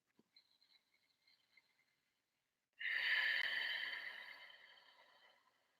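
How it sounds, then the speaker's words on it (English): After a few quiet ticks, a long, airy, whispery Ujjayi (ocean) breath through the nose swells in and slowly fades, close and audible, with no words spoken. "you make that whispery sound called Ujjayi breathing or the ocean sounding breath"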